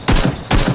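Automatic gunfire in the PUBG video game: two loud, close bursts of rapid shots, each lasting about a third of a second, separated by a short gap.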